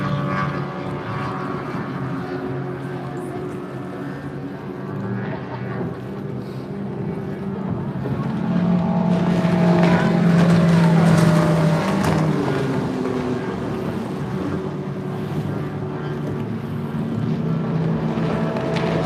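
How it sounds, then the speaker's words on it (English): Racing boats in an F2 powerboat race run around the course with a steady, broad engine roar that swells in the middle as craft pass nearer, then settles into a continuous distant drone. "Ben Brown is now currently out in first place in F2 there, ahead of boat number 25 there, Graham and Marta Drew."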